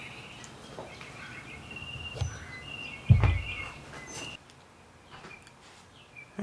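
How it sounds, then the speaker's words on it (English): Outdoor birdsong chirps and tweets at moderate volume, broken by a sharp thud near the middle before the background quiets. "Apparently the birds are really excited today."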